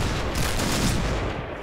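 Rapid gunfire from the DSR-1 sniper rifle in the shooter game Point Blank, a dense continuous burst of shots that fades slightly toward the end, with no talking.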